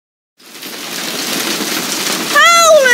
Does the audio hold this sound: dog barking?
no